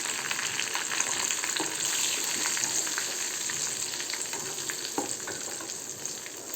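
Curry leaves crackle and sizzle in hot tempering oil for a gonguura dish, a steady close frying hiss with sharp pops and the occasional stir, no voices.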